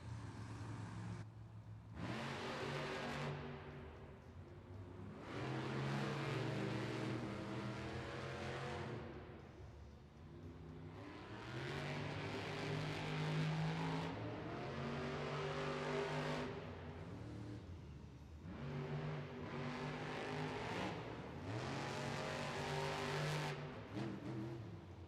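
Monster Jam monster truck engines roar and rev loudly at the starting line of an arena race in Arnhem, Netherlands, in long surging bursts with short dips between them, and no voices.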